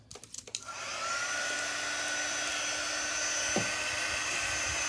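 A hair dryer starts up with a few sputters, then blows in a steady, loud, even whoosh to dry a handmade bow tie craft, with no talking.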